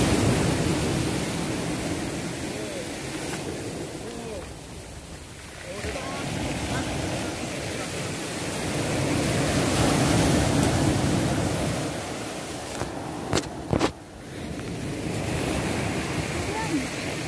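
Sea waves at a beach resort in Baler, Aurora, a broad continuous wash of surf that rises and falls, with wind buffeting the microphone and a couple of sharp knocks near the end.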